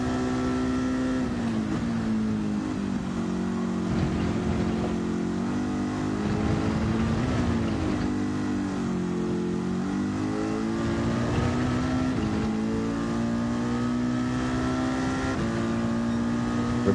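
Sustained car engine revving in Gran Turismo, steady and loud throughout, pitch rising and falling with throttle and gear changes.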